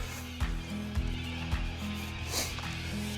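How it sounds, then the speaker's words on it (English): A yearling horse on her first ride under saddle whinnies, a loud, near neigh heard over a steady background hum, with a few soft thuds of movement. "this is her first ride."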